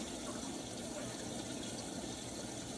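Liquid drains from cooked spicy Italian sausage in a soft, continuous trickle and gush, faint and steady over a couple of seconds with no talk.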